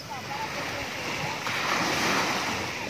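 Strong waves break on the shore at Estancia in a continuous, rushing roar mixed with wind buffeting, the surf swelling louder about halfway through and staying close and steady.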